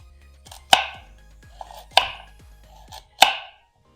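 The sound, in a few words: knife slicing carrots thinly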